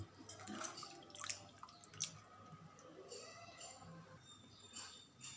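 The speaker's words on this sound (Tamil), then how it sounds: "மறுபடியும் க்ளீன் வாட்டர் வச்சு நல்லா கழுவிடலாம்" Water drips and sloshes faintly as raw chicken pieces are washed in clean water in a vessel, soft irregular splashes and trickles at a low level.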